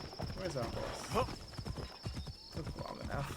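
Horse hooves clop in Assassin's Creed Shadows, with a brief whinny near the middle. Voices talk over the steady footfalls.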